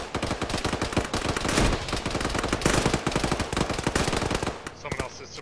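Loud, near machine-gun fire in the military shooter game Arma rattles in dense, continuous bursts of rapid shots for several seconds, with overlapping gunfire and faint voices mixed in.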